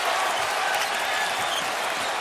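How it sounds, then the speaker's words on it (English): Crowd at an NBA basketball game applauding: a loud, continuous roar of clapping and cheering filling the arena, steady and dense for a couple of seconds without clear talk on top. "And the crowd appreciative"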